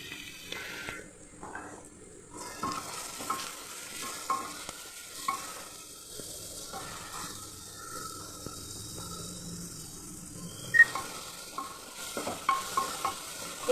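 Spices fry in oil in a pot for a chicken stew, hissing and sizzling steadily while a spoon scrapes and stirs in repeated bursts, close up, with no talking.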